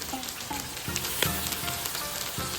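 Soaked fish maw and shiitake mushrooms stir-fried in a claypot give a steady, close sizzle, with soft stirring scrapes and light clacks breaking through at intervals. No voices.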